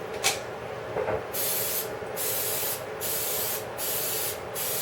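Cooking spray hisses onto a muffin pan in a series of short bursts, about five quick sprays in a close, quiet kitchen, with a light clunk of the pan at the start.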